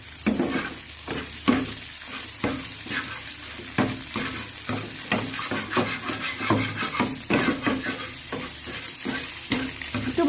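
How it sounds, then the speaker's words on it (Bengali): Food fries in a pan with a constant sizzle while a utensil scrapes and stirs in repeated rhythmic strokes, close up with no talking. "এবারে পুরোটাকে ভেজে নিতে হবে। দেখুন মা এরকম করে ভালো করে নেড়ে নেবে।"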